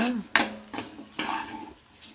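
Soya chunks (meal maker) fry lightly in a pan for a potato curry, heard as a few sharp scraping stirs and clinks of a spoon over a faint sizzle, with no one talking.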